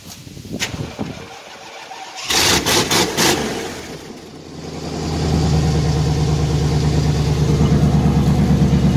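A car with a newly installed alternator clicks and cranks briefly, then its engine catches and settles into a loud, steady idle up close.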